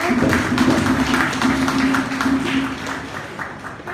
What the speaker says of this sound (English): Please keep clapping for the Honorable Minister.